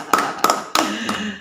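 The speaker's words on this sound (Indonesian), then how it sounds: "Tepuk tangan dulu" A small group of people claps together at a local gathering in Bagelen, Purworejo, giving a few short, sharp bursts of scattered applause at close range with no one talking.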